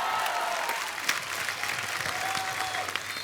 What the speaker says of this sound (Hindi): एक बार जोरदार तालियां गोविंदा सर और सुनीता मैम के लिए।